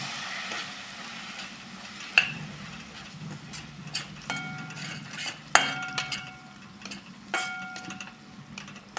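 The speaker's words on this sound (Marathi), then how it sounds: "हे मिक्सरचं वाटण केलेलं थोडं थोडं पाणी घालून मसाला परतून घ्यायचा" Ground masala paste from the mixer sautéing with a little water in a pan for egg roll curry, a low steady sizzle broken by repeated sharp clinks and scrapes of a spoon against the pan.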